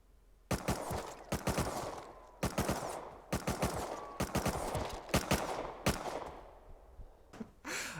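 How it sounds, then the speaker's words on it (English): Rapid bursts of gunfire from the Rust video game, clusters of sharp, loud shots fired in quick succession with brief pauses between volleys, heard alone without talk. "he's going to just shoot, try and handle that recoil and see just how many shots it takes to down me"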